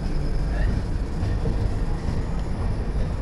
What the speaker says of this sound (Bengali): এখন ছেড়ে দিচ্ছে, ট্রেন চলা শুরু করছে।